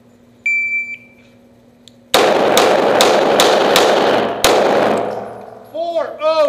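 Loud gunshots at a practical shooting match stage ring out in a quick string of about six sharp reports, a pause, then another shot, with steel targets clanging and voices starting up at the end.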